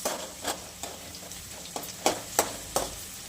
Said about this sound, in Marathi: आपण आहे ना ही भेंडी आता तळली, आपण थोडीशी अजून तळली